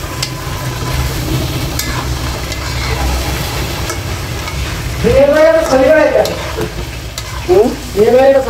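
Fish pieces fry in spiced oil while being stirred and turned, a close, continuous sizzle with scraping, joined near the end by a voice talking over it.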